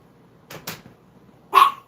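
Small dog barking indoors, a couple of soft yips followed by one sharper, louder bark, close by with no talk over it.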